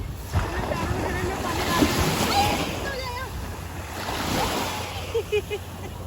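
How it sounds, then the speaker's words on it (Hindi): Sea waves rise and wash around the giant torii gate at Miyajima, a broad rushing surge with wind buffeting the microphone, while people talk nearby. "अब देखो बढ़ रहा है, ऊपर तक आ रहा है पानी।"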